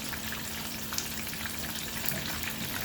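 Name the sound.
shrimp fried rice sizzling in pan with Worcestershire sauce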